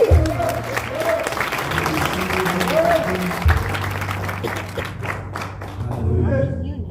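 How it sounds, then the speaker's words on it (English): A church congregation claps along in a steady, close, lively round of applause, with voices calling out over the clapping. "Give Jesus a hand clap."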